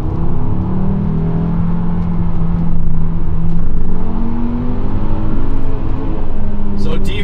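A 6-speed Volvo V70R turbo wagon accelerates with a steady droning engine and road rumble, the pitch climbing and swelling slightly as it pulls out of a corner, heard from inside the car with someone talking throughout.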